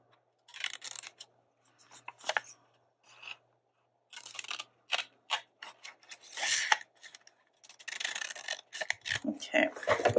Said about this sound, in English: So right in the fold line, I'm just going to trim this off, trim this off.